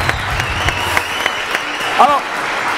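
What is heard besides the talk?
studio audience applause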